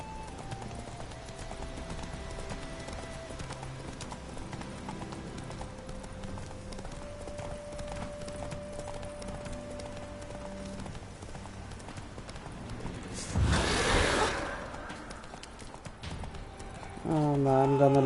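Horse hooves clip-clop steadily in The Witcher 3 as the rider travels on horseback, a continuous rhythmic patter running under game music, with someone speaking over it near the end.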